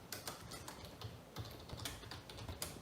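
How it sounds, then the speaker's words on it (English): Continuous typing on a computer keyboard, with a steady patter of close, crisp key clicks and occasional heavier strokes, no talking. "I'm typing the poll in here"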